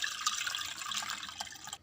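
Soft, faint trickle and splash of water being strained from cut banana flowers soaked in curd, a brief continuous pour with a few small drips.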